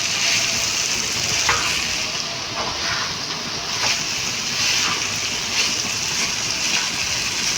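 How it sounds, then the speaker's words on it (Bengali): Yardlong beans and potatoes fry in a pan with a steady, dense sizzle that stays close and even throughout. Faint stirring scrapes occasionally rise above it, and nobody speaks. "দারুণভাবে রান্না করে ফেলছি আমি আমার বরবটি ভাজি"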